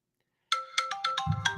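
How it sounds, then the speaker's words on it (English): A phone alarm goes off suddenly after silence, playing a bright repeating melodic ringtone of several quick tones, close and clear, with a low thump near the end. "sorry, that was my alarm."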